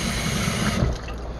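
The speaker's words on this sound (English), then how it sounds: "you have to rinse out the cup" Water runs steadily from a tap as a cup is rinsed out, a close, continuous splashing flow that eases slightly toward the end.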